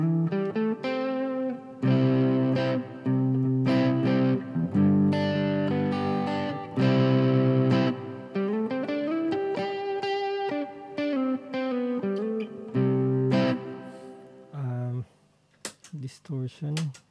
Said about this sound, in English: We put a bit of overdrive from Mosky.